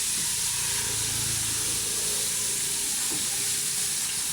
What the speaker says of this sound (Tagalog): Nagluluto na siya ng crispy fried chicken